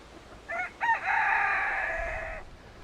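A rooster crows loudly close by in a pen, preceded by two short clucking calls, with no talking.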